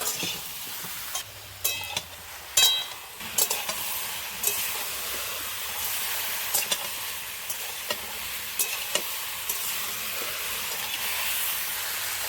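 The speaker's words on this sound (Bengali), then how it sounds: "প্রথমে ভালো করে সবজিটাকে ভেজে জল দিয়ে সিদ্ধ হতে দেবো" Vegetables for a light summer vegetable curry with lentil dumplings sizzle and hiss steadily in a pan over a two-burner stove, with occasional stirring clicks and scrapes, close and continuous throughout.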